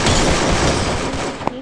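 Dense, loud gunfire in a shooting video game, a continuous close barrage of rapid shots that fills the whole moment with a sharper crack near the end.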